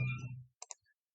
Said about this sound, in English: notice what happens when I click the missed it button